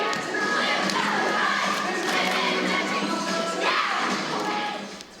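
Blue Valley High School's cheerleading squad performs a loud cheer, with crowd noise, shouting and thuds from stunting filling the space continuously before easing off at the very end.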